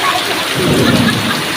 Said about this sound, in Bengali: এই যে বৃষ্টি নেমে গেছে